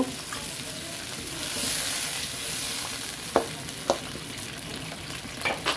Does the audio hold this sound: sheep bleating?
no